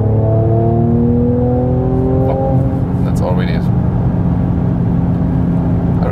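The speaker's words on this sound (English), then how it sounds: "a very sonorous, low frequency sound from the six cylinder engine" Six-cylinder engine of a sports sedan accelerating in Sport Plus mode from 100 to 130 km/h, rising harmonic tones climbing steadily for a few seconds before settling into a deep sustained drone, with a voice talking over it.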